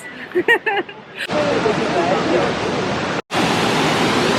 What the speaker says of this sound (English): Tallest man-made waterfall in the world.